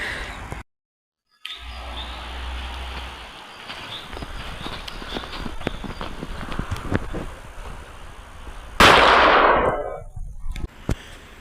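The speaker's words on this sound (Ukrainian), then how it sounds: "А ось що сталося з мангалом після першого вибуху." Firecracker blowing up a barbecue grill outdoors: a sudden loud sharp blast near the end after windy outdoor background with scattered clicks and rattles, followed by a fading burst of debris.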